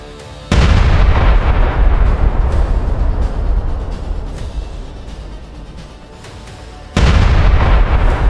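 Heavy boom from a Leopard 2A4 tank cannon firing at a Russian tank, a sharp onset followed by a long rumbling roar and then a second loud blast near the end, close and powerful with no talk.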